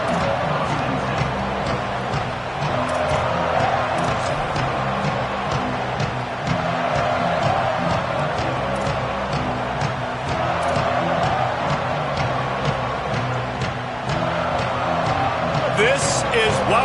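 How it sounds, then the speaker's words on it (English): Dense, steady stadium crowd roar at a college football game fills the whole stretch at a constant loud level, with an announcer's voice speaking over it throughout. "This crowd ready to make its presence known."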